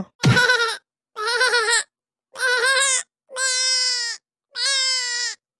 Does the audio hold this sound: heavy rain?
no